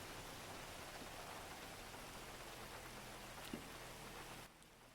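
Steady rain falls in a GTA roleplay game world, a dense even hiss of drops on surfaces that carries on unbroken, then drops off sharply near the end.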